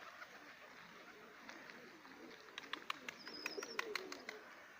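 Pigeons gather while being fed, with faint soft cooing and scattered chirps that grow busier, plus a run of sharp little clicks and calls toward the end.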